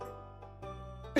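A low steady hum runs throughout, then one sudden, loud cough bursts out close by at the very end.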